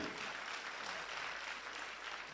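Applause from the audience at a radio awards ceremony in Mali, a steady, even wash of clapping from a crowd heard at some distance.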